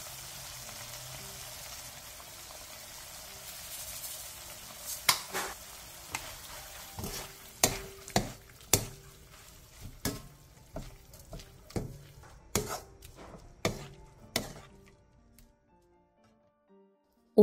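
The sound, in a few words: stirring seasoned bracken namul in a pan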